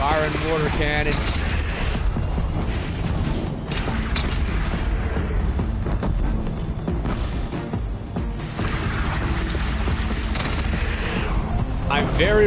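Cannon fire and explosions in the Horizon Zero Dawn video game, with repeated booms and mechanical clatter in a dense, continuous battle mix under game music and voices.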